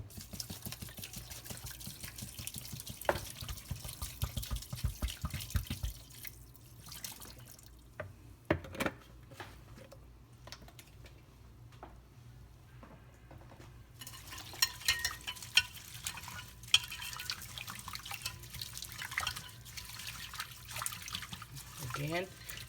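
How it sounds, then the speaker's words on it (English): Purple Irish moss being rinsed by hand in a bowl of spring water set in a colander, with soft sloshing, dripping and splashing that quiets midway before resuming, while a voice talks quietly beneath it. "you want to wash it until you get it to the cleanliness that you want it"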